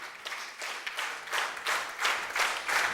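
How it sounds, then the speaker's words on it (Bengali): An audience applauds at a business seminar as an honored guest arrives, the clapping sustained and building in dense waves from a crowd in a hall, with no talking over it. "আমরা সবাই তার করতালি দিই।"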